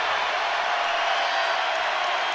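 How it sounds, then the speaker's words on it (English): Basketball arena crowd at a men's game in Arkansas roars steadily, a dense wall of cheering and noise that holds at full strength throughout without a break. "here's the crowd"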